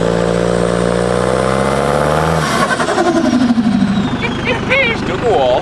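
A car engine revs up with a rising whine, then drops into a rough, throbbing idle while voices chatter nearby, all loud and close.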